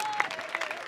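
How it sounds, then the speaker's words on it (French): Mourners at a funeral for a comedian applaud steadily, a continuous close patter of clapping at moderate volume. "nous allons applaudir très très fort pour lui"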